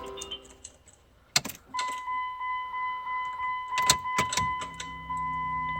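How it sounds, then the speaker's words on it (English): Dodge Caravan with a replaced fuel pump: a couple of sharp key and ignition clicks, a steady electric whine as the pump primes, then a brief crank and the engine catching into a running hum, close up. "that's fuel pump prime and fired up. Vehicle fired right up."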